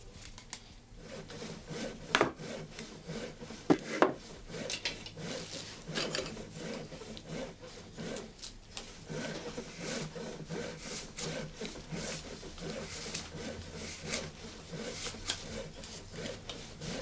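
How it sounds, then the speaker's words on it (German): A rake maker trims the wooden teeth of a rake with a Schnickmetz knife, giving steady scraping and shaving strokes of blade on wood, close and fairly quiet, with a few sharper clicks and no talk. "Der Rechenmacher passt die Zähne mit dem Schnickmetz endgültig der Lochgröße an."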